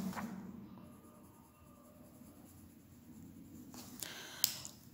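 A pencil colouring a picture of a cheese in a children's activity book, a soft continuous scratching close by, with a few louder strokes near the end.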